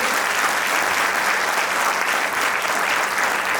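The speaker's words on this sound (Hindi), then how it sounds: "मैं चाहता हूं एक ताली मेरे जोरदार माँ बाप के लिए होनी चाहिए" At a motivational business event in Haryana, an audience gives a loud, steady round of applause, dense continuous clapping with no break and no speech over it.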